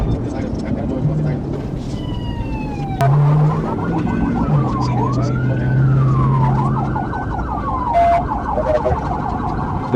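Wailing police car siren sweeping up and down in loud, repeated rising-and-falling cycles during a high-speed pursuit, with engine and road noise rumbling steadily underneath and a sharp burst as the siren kicks in.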